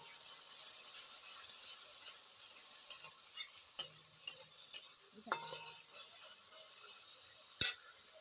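Ginger, onion and green chilli frying in a pan under a soft, faint sizzle, punctuated by a series of sharp spoon taps and scrapes, one louder clack near the end.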